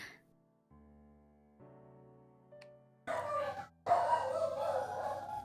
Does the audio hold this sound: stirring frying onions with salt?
no